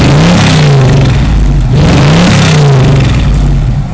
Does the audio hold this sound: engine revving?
yes